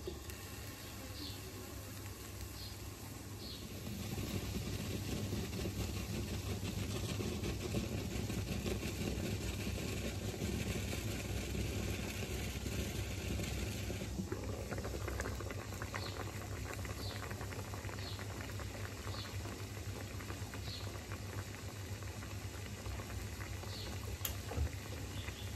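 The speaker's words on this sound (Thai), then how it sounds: "ให้เดือดประมาณ 5-7 นาทีปิดฝาร่อเลยจ้ะ" A soy sauce marinade for Korean-style pickled shrimp bubbles steadily in a covered pot, a continuous low, rushing boil with faint ticking and rattling that holds evenly throughout.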